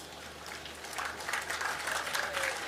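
An audience at a Tamil poetry reading breaks into applause, which swells after about a second into a brief burst of fairly close clapping, with no speech over it.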